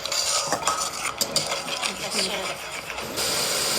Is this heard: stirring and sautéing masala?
yes